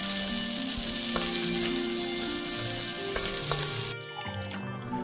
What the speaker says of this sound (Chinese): 先把黑鲟鱼在油锅中煎出焦香